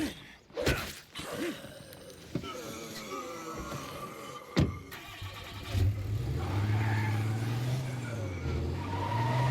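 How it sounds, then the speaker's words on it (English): In the State of Decay 2 video game, a car starts and drives off, its engine droning steadily and climbing in pitch. Earlier there are sharp clanks, thuds and tire noise, and the engine stays close and fairly loud. "Alright, get in the car."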